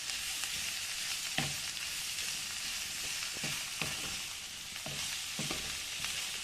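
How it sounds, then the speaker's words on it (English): Coriander and mint leaves fry in a pan for vegetable upma, giving a steady, bright sizzle with soft scrapes and clicks of stirring every second or so, fairly quiet and close. "Fry this a little."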